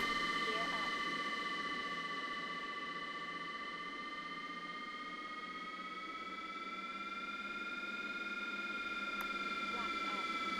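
Steady high-pitched electric motor whine from an RC aircraft in the RealFlight 9.5 simulator game, several sustained tones slowly drifting in pitch, loud and continuous throughout with no talking over it.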